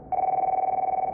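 An office telephone in the 1995 film Se7en gives one short, loud, steady electronic ring, a single buzzing tone that starts abruptly and holds for about a second.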